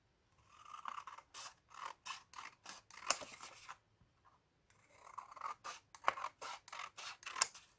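Scissors snip through paper in quick, close, rhythmic cuts, two runs of short crisp snips separated by a brief pause, with no talking.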